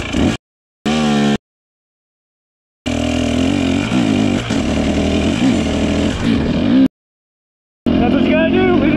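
A KTM TBI motorcycle engine running low on fuel revs in loud, rough bursts that cut out into silence, one long stretch of running between short gaps before it picks up again.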